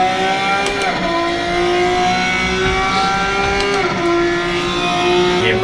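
A racing game car at the Red Bull Ring idles and revs, its engine tone rising and falling in steady sweeps, loud and close throughout with no voices over it.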